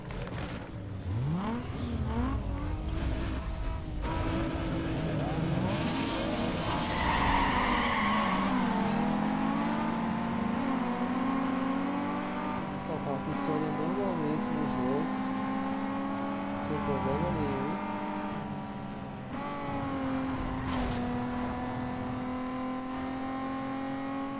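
A car driven in Need for Speed Underground 2, its engine revving and rising and falling in pitch through gear changes, with tire skids, continuous and fairly loud, while a voice talks over it.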